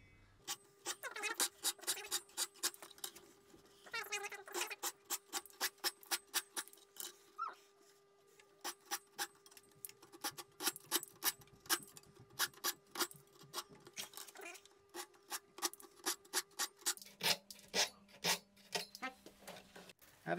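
A hand saw trims small pieces of wood for Japanese lantern joinery in quick, rhythmic rasping strokes, close and fairly quiet, with brief pauses between bursts and a faint steady hum underneath.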